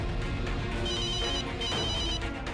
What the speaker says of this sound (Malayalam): അതെ, അത് എന്റെ ഫോണ റിംഗ് ചെയ്യുന്നത്.